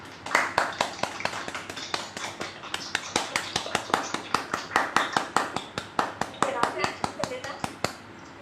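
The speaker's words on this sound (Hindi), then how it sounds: "तभी ललिता के लिए तालियां बजाएं।" A small group at a children's event claps in a fast, fairly even rhythm, individual sharp hand claps close by and clearly separated, continuing for about eight seconds.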